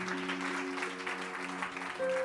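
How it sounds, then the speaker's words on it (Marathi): A church congregation applauds during a sermon, a steady, full patter of many hands clapping at close range, with sustained organ or keyboard tones held underneath. "जरा जोरदार टाळ्या होतात प्रभूसाठी."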